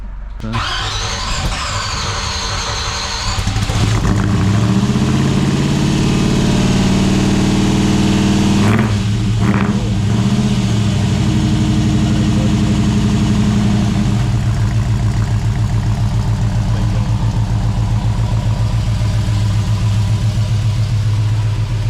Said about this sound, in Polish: Będziemy odpalać, uwaga, będzie głośno.